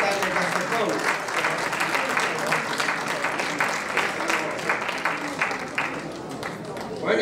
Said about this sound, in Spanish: fuerte aplauso para la Escuela de Jota de Castejón